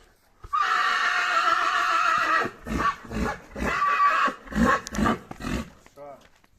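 A loud, close stallion neigh, from a Polish cold-blooded horse, opens with a long shrill whinny, then breaks into a series of rhythmic snorting, heaving calls.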